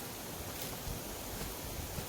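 A strong gusting wind sweeps across an open wheat field, a continuous broad rushing roar with rough buffeting on the microphone, and no voices.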